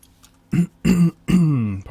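A man's smoker's cough during a My Summer Car engine-work session: three close, harsh throat-clearing bursts, the last one longer and drawn out, with short quiet gaps between them.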